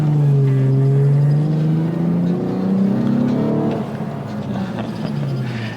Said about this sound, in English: let's come from a stop. Let's see if the tires will spin.